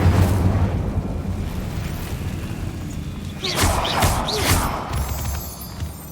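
Incendio fire spell cast in Hogwarts Legacy, a burst of flame and crackling impacts rising mid-clip over a steady rumbling game ambience, with no talk.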